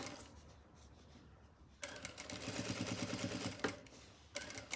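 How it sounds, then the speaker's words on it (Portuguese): A sewing machine stitching a seam inside a small fabric zip pouch, a steady mechanical whir with rapid repeating needle strokes that starts after a quiet opening and runs close and fairly loud to the end, briefly pausing near the finish. "vou abrir aqui e vou fazer uma costura aqui dentro"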